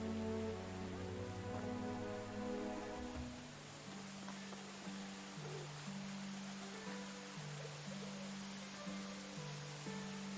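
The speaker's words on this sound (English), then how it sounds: "It's raining even harder." Heavy rain in the medieval survival game Medieval Dynasty, a steady broadband downpour hiss running the full length under a low tonal game music bed, with no voices.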